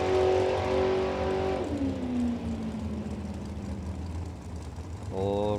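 A drag racing car launches down the strip, engine roaring loud and close then shifting and fading into the distance, with a second burst of revving at the end.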